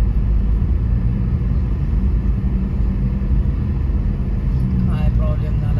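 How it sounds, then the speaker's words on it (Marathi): Traffic moves off on a ghat road in the Konkan, Maharashtra, after a jam clears. A heavy, continuous, close rumble of engines and tyres runs without a break, with voices faintly mixed in. "चला निघाल्या गाड्या निघाल्या."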